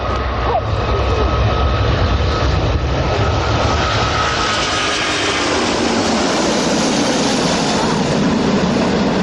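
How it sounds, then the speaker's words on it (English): An Airbus airliner departs at the Farnborough Airshow in a steep climb, with a loud, sustained jet roar that stays close and steady throughout, its pitch shifting slowly as the aircraft climbs away. "Big climb away. And if that's not an impressive departure, watch the Airbus now going into a high angle of bank."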